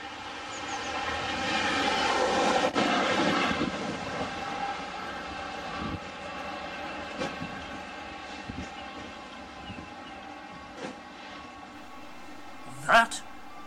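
A 1,200-ton freight train rumbles past on the line, a broad rolling roar that peaks early and then fades into quieter clatter, with speech and a sharp knock near the end.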